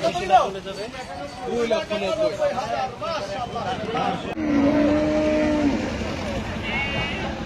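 Cattle at a crowded rural livestock market, the Hazratpur cow haat, with low bovine lowing and animal movement heard amid a steady din of crowd chatter and voices close by.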